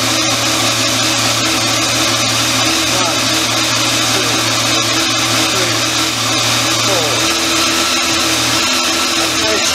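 An engine runs continuously during a throttle-by-wire cruise control calibration, a loud, steady drone with a slight rise in pitch partway through, while people talk over it.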